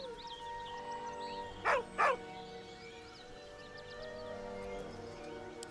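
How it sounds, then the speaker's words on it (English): A dog in the Baldur's Gate 3 video game gives two short, sharp whining yelps in quick succession over steady game music and ambience. "With a deep, heartbroken whine, the dog bows his head"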